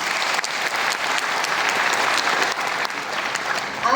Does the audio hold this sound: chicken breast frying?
no